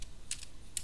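Short bursts of keystrokes on a computer keyboard, a few quiet clicks spaced apart against a low background hum, with no voices.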